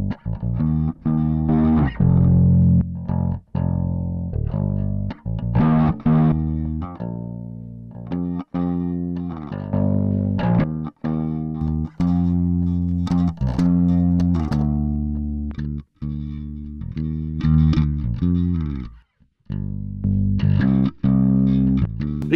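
An electric bass plays through the Arturia Dist Op Amp 21 plugin with its preamp turned down so the tone is nearly clean, giving a continuous line of close, punchy notes with a thinner low end.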